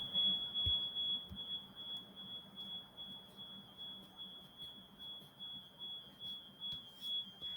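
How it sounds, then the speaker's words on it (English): A steady high-pitched electronic alarm tone beeps on continuously in a classroom, holding one sharp pitch throughout over a low room rumble and faint shuffling, with no talking. "Somebody's alarm is going off."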